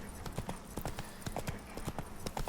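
Hooves of Geralt's horse Roach in the video game Witcher 3: Blood and Wine, a steady rhythmic clip-clop of a trotting horse, fairly quiet and continuous.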